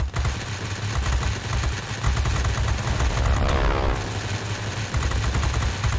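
Warplane gunfire in the online combat flight game World of Warplanes, rapid bursts of machine-gun fire rattling over a loud droning aircraft engine, continuous across six seconds.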